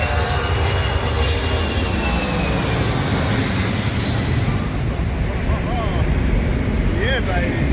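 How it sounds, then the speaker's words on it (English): An airplane circles low over a city, its engine roar loud and continuous above a gathered crowd, with the noise of people around. "Check out the crowd gathered to watch the airplane making rounds over the city."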